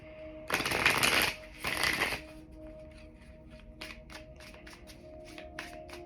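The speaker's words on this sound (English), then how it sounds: "I'm gonna pull one card from the Seed and Sickle deck here." Tarot cards from the Seed and Sickle deck are handled: two brisk riffle-shuffle bursts up close, followed by a series of light taps and card flicks.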